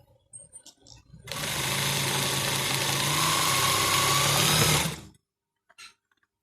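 A Brother industrial sewing machine stitches thick, stiff pot-style fabric in one steady, loud mechanical run of about four seconds, with short quiet gaps and faint handling noises before and after.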